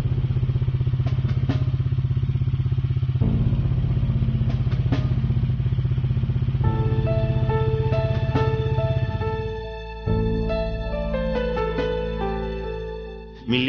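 Motorcycle engines from a police escort rumble at a steady, loud idle and rev, with a clattering mechanical throb and occasional thumps, heard close and without talk.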